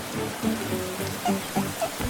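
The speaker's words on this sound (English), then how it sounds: "the rain began to pour down heavily" Heavy cartoon rain pours down in a steady dense patter, with a few light splashy drips standing out over the continuous wash.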